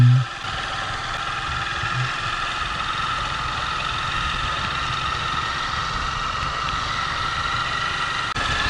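A 2008 Honda Titan 150cc motorcycle engine idles steadily at a low, even rumble, running alone without voices for several seconds.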